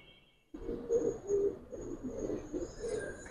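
Old-breed Giribaz and coloured pigeons coo softly in repeated low murmurs, with faint bird chirps above and no talk.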